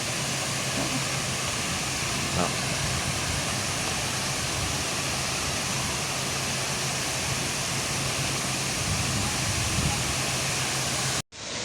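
Wachirathan waterfall in Thailand gives a constant dense roar of falling water, steady and loud throughout, with faint voices of visitors beneath and an abrupt cut near the end.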